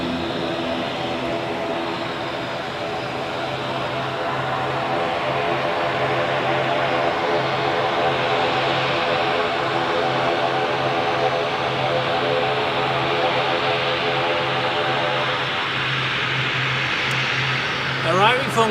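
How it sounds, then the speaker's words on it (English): A Blue Islands ATR 72 turboprop arrives at Zurich Airport, its propellers giving a steady droning hum with layered tonal lines over a wash of engine noise, continuous and moderately loud, swelling briefly at the end. "An ATR 72 of Blue Islands"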